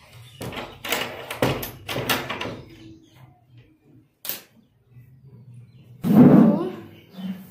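A house door at home clatters and thumps in several sharp knocks and bangs close by, with a louder rattling knock near the end amid quiet room sound and faint voices.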